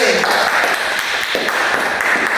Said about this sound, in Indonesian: tepuk tangan untuk Gavin